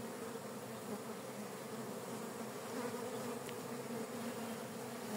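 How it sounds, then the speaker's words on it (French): Honeybees swarm busily around the last few beehives, a steady, dense buzzing hum that holds at an even level throughout, close and continuous with no voices. "Et là on a quand même une très belle activité sur les dernières ruches."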